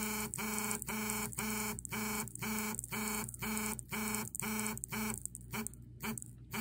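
A powder trickler running at 80% power and 2 hertz gives a loud, steady mechanical buzz pulsing in regular bursts about twice a second, with the last beat trailing off into a quieter hiss.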